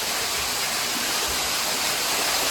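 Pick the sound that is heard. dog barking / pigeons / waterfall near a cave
waterfall near a cave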